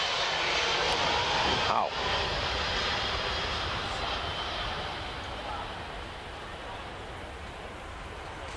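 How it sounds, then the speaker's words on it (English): A big military cargo plane roars overhead at a tennis venue, its loud, broad engine drone gradually fading across several seconds; a voice briefly exclaims during the pass. "A big military cargo plane just went overhead."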